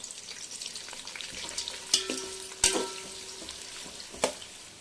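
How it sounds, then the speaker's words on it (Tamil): Onions sautéing in a pan for mutton biryani, a steady close sizzle with a few sharp stirring scrapes and clicks, no talking. "வெங்காயம் இப்போ நல்லா வதக்கிக்கலாம்"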